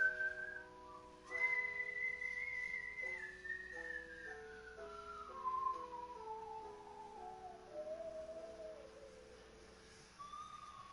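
A person whistles a slow, wavering melody alone, a clear sustained tone gliding gradually downward over about ten seconds with a faint electronic hum beneath.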